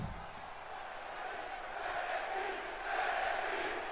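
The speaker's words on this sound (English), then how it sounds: "The crowd's going wild." Virtual arena crowd in the wrestling video game WWE 2K25 roaring and cheering during a wrestler's entrance, a steady loud wash of noise that swells toward the end.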